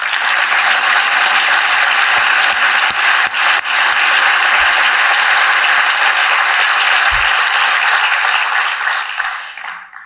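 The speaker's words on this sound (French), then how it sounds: "Je crois qu'on peut l'applaudir." Delegates at the closing session of a road transport federation congress applaud in a dense, sustained wave that holds steady, with a few sharp knocks, then thins out and fades.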